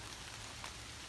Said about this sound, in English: The rain was supposed to end by early morning, but it hasn't.